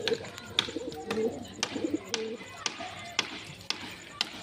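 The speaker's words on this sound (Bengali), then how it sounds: "কালা সবুজ পায়রা।" Black and green pigeons, newly caught and kept at a house, coo in low repeated phrases close by, with sharp intermittent clicks and knocks throughout and background voices.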